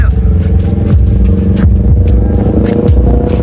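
A pink Kawasaki Ninja motorcycle engine revs loudly and continuously up close at a village grasstrack race, its pitch rising and falling through a few surges.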